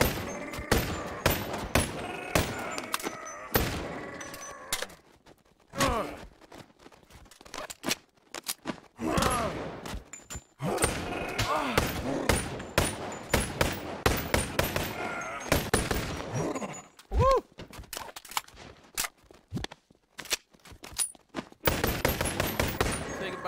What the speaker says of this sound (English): you're always shooting something, even if you're missing what you're shooting at